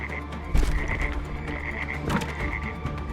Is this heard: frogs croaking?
yes